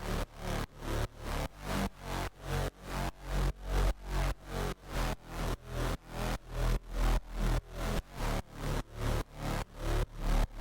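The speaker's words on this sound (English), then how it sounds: "when the bass comes together, it sounds like this" A split distorted bass with heavily distorted high end blended over the low end, pumping in a fast, steady rhythm of even pulses, continuous and fairly loud with no voices.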